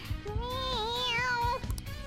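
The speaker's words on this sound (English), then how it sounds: "Meow." A cat character meows in Persona 5 Royal, one drawn-out, bending meow lasting over a second, close and clear above a low game soundtrack.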